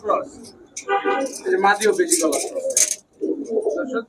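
Giribaz pigeons, a pair of mottled-neck birds, cooing in soft repeated bursts close by while someone talks over them.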